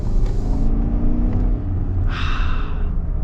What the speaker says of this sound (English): But get acceleration here.